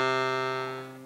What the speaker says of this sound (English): If you have a low reed, it's a bassoon reed, and sounds like this.